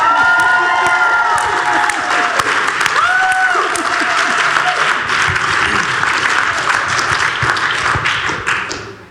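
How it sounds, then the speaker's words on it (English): An audience at the Freedom from Fear Awards panel of the GCIR 2012 conference bursts into loud, sustained applause with cheering, filling the whole stretch before tapering off at the end. "I think we need one more moment to get out of our system with another big cheer."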